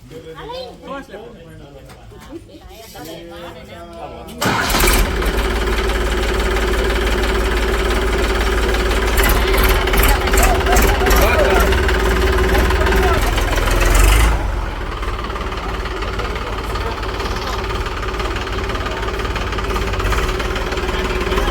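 A new heavy diesel tractor's engine bursts to life, then settles into a loud, steady idle with a rhythmic low knocking rumble.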